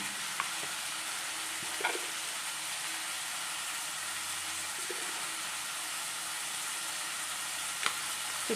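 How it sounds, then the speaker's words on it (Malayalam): Onion, tomato and green chili frying in hot oil for Kerala-style kappa biryani, a steady close broadband sizzle with a few brief clinks of stirring, no talking. "അപ്പോൾ അതാ എണ്ണ ചൂടായി വന്നു തുടങ്ങി. നമുക്ക് സവാളയും തക്കാളിയും പച്ചമുളകൊക്കെ ഇട്ട് കൊടുക്കാം."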